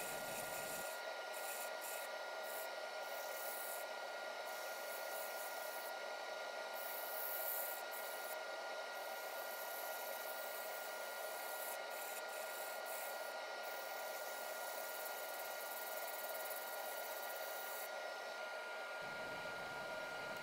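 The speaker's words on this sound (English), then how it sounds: "80 grit all the way up to 600 grit in a mixture of hand sanding and power sanding" Continuous hissing, rasping sander noise runs steadily for a long stretch, close and even, with no talk, power sanding a turned walnut plate through 80 to 600 grit.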